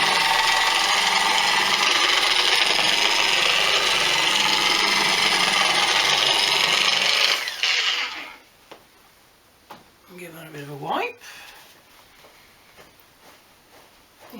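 A Guild dual-action polisher strips wax from car paint with a loud, steady whirring rush for about seven seconds, then winds down and stops, leaving a quiet room where a voice briefly speaks.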